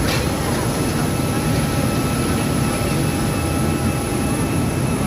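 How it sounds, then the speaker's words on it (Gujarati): A large passenger airplane's jet engines roar steadily at an airport boarding area, a loud broadband drone with a faint high whine running throughout, while people talk nearby. "કેવડું મોટું વિમાન છે."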